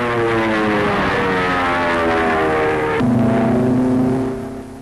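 Propeller engines of American carrier aircraft, Avenger planes, drone loudly and steadily with a pulsing harmonic hum that shifts in pitch partway through and fades slightly at the end.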